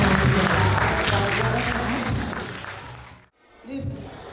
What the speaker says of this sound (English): y'all clap it up for our faculty and our parents that are in the audience